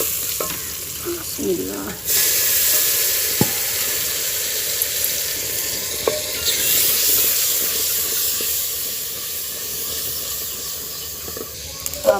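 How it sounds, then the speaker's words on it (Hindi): Garlic fries in a pan of hot oil for an outdoor country-style vegetable dish, giving a loud, steady sizzle that swells sharply twice. Occasional utensil clicks and a brief spoken word come through over it. "अब हम इसमें डालेंगे लहसुन।"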